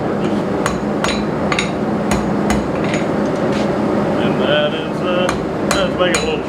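Steady ringing hammer blows from a blacksmith hand-forging an iron trammel hook for campfire cooking, struck close and loud in an irregular series over a constant background din.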